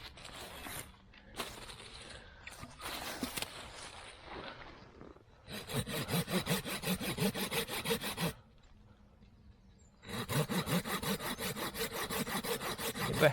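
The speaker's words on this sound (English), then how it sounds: "I'm going to have to cut out a notch. Yep, a notch there." Hand saw cutting notches into wood for a bushcraft table in a forest camp: short scratchy strokes at first, then two long sustained stretches of steady rhythmic rasping, close and clear with no talking.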